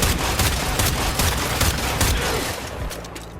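Kuva Drakgoon weapon in Warframe fired rapidly, a dense barrage of loud, repeated blasts running continuously for about two seconds before easing off.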